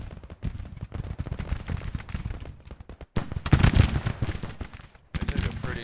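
Rapid volleys of gunfire and booming artillery in the Civil War strategy game Grand Tactician, dense crackling shots in continuous bursts with brief gaps and heavier thuds midway, loud and close.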